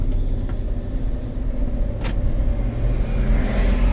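A high-mileage van, around 250,000 miles, on a road test: steady, loud low engine and tyre rumble from inside the cabin, with a brief click or two, and no talking.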